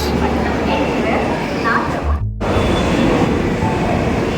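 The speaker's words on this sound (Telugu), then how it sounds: "ఇప్పుడే ప్లాట్ఫామ్ నెంబర్ 1 మీదకి అయితే ట్రైన్ వస్తుంది" A Humsafar Express rolls into platform 1 at a station, its steady low rumble and rail noise filling the scene with a brief dip midway, close and fairly loud.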